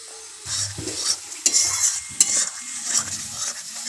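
Masala cooked down with spice-paste water and a pinch of garam masala powder is stirred in a pan, a soft sizzle under irregular scrapes and clinks of a spoon against the metal, close by and without talk.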